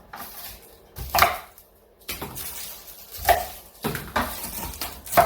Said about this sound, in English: So I'm cutting my garlic neck this high,